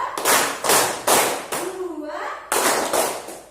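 A primary-school class claps in unison to a counted pattern: sharp group claps about every half second, a short gap with a voice, then another burst of claps, close and reverberant in a classroom.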